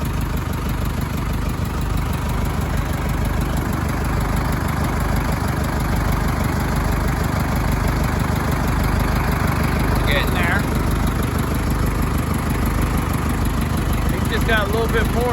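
A skid loader's diesel engine runs steadily and close throughout, a loud, even idling drone with constant low vibration and faint squeaks now and then.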